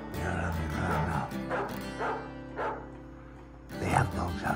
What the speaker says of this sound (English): They have the dogs out now.